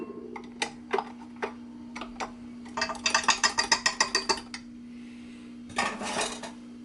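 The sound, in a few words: whisk removed from bowl, utensils clinking while making banana bread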